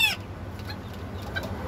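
Bantam hen clucking, a short burst of soft, quick clucks close by at the start, then quieter scattered farmyard sounds.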